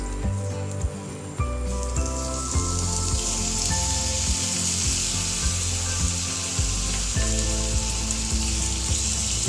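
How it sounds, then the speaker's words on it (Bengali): Chicken for pizza topping hits hot oil in a pan and sizzles loudly and steadily, with occasional knocks and stirring sounds over the continuous frying hiss. "এবার আমরা এর মধ্যে চিকেনটা অ্যাড করে দেব।"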